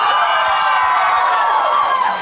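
Studio audience at a televised folk karaoke contest applauding and cheering for a contestant, a continuous loud crowd roar with clapping and voices blended throughout.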